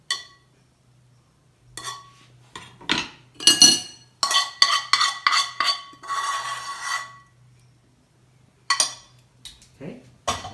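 Shrimp and artichoke hearts tossed together in a salad dish, giving a run of close, irregular clinks and scrapes of utensils against the dish with short pauses between bursts.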